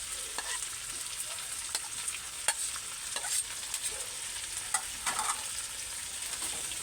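Banana blossom and banana heart are stirred in a hot frying pan, with a steady sizzle under repeated scraping and clacking strokes of a utensil at close range.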